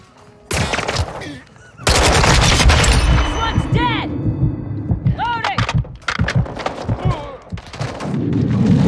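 Bursts of rapid automatic gunfire in a Call of Duty Modern Warfare 2 team deathmatch, loud and close, with sharp broadband shots and brief pauses, plus voices and game chatter mixed in.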